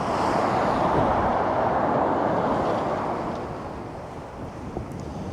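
Strong wind blows across the shore at Chesil Cove during a fishing session, a loud, continuous roar buffeting the microphone that eases slightly toward the end.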